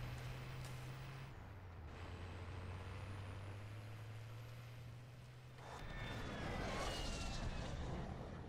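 A vehicle drives in the MW3 Zombies game with a steady low engine drone that holds throughout, rising into louder, rougher rumble and wind noise near the end.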